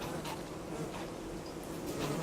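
A steady insect-like buzz of bees in the video game Don't Starve Together hums continuously, fairly faint and even, with a flat synthetic quality throughout.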